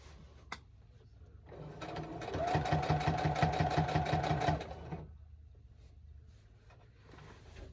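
A sewing machine stitches a quilt row in one steady burst of a few seconds, its rapid mechanical chatter close and clear, with a quiet pause before and after.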